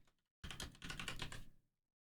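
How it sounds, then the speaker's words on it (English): Rapid clacking on a computer keyboard, a dense close burst of keystrokes lasting about a second after a brief quiet start, with no voices. "the soothing sounds of clack, clack, clack, clack, clack, clack, clack, clack, clack on the keyboard"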